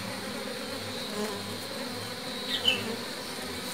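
Bees buzzing steadily around beehives on a sunny day while three colonies are merged, a continuous droning hum with one brief closer buzz as a bee passes near.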